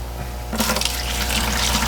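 Water gushes steadily into a bucket beside an outdoor cherry shrimp breeding pond, starting half a second in and running continuously at close range without talk.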